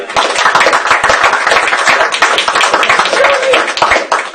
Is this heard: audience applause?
yes